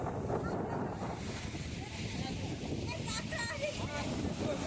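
Sea waves surge and crash against the Vizag rock arch, a continuous, loud roar of water with heavy wind buffeting the microphone throughout.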